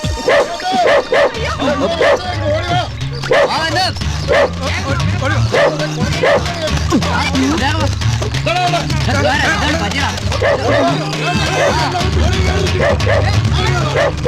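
A dog in a Malayalam comedy film scene barks, yips and whimpers repeatedly throughout, loud and close, over overlapping shouting voices and commotion.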